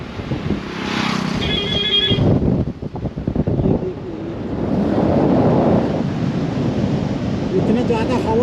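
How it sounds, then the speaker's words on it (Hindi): Heavy wind gusts pound the microphone near the roadside on the way to Rameswaram, a loud continuous rumble that briefly eases midway before surging again, with faint traffic underneath. "इतना ज़्यादा हवा चल रहा है"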